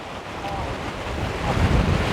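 Rushing water at a waterfall where fish are being caught, a dense, steady roar filling the scene, loud and close with wind buffeting the microphone.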